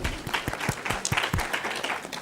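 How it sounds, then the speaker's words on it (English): Audience applause for Zanele at a women in media and communications panel discussion: brisk, close clapping from a small crowd with crisp individual claps, lasting a couple of seconds. "let's give her a round of applause"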